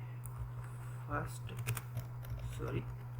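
Typing on a computer keyboard during a web page coding lesson, heard as a few soft, quick key taps in short bursts over a steady low hum, quiet and close.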